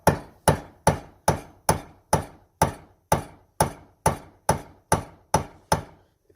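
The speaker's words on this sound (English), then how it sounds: "use a chisel, a dull chisel, and a hammer, and gently" A hammer taps a dull chisel against the locking ring of a Jaguar X-Type fuel pump, fifteen sharp metallic knocks in a steady, evenly spaced rhythm, close and distinct with silence between strikes.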